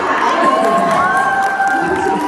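Seminar attendees shout and cheer in a lively burst, overlapping voices rising in pitch over a crowd murmur, close and loud throughout the short stretch.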